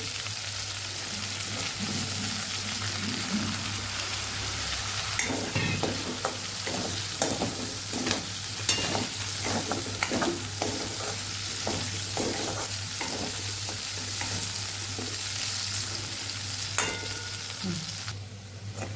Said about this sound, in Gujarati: અહીંયા બટેકાને પણ આપણે તળી લેશું